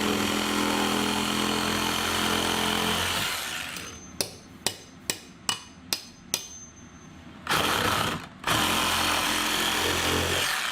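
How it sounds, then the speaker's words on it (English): A loud rotary hammer roars, then cuts to a series of sharp rhythmic bursts, about six, before drilling again in two longer runs, close by. "Roto hammer."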